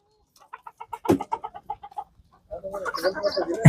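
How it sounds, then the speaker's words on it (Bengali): A flock of chickens clucks close by, first a run of rhythmic short clucks from one bird, then a busier overlapping chorus of several hens with rustling. "মাশাআল্লাহ অনেক মুরগি এখানে।"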